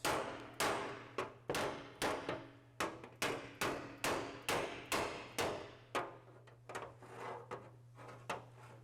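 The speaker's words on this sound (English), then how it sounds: "you can engage the slapper with a hammer like this" Around a dozen sharp metallic body-hammer blows strike a slapper against a damaged Austin-Healey 3000 body panel in a steady rhythm, close and ringing, over a low background hum.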